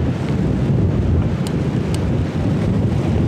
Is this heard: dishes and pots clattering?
no